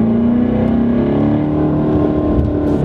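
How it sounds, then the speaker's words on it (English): Corvette C7 Stingray engine revving during manual rev-matched shifting, a loud close continuous engine note that rises in pitch as the revs climb, heard alone without talk. "you can turn the rev match option on and off, or you can do like I'm doing and just rev match yourself"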